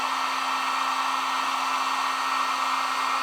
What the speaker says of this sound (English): put that heat gun on there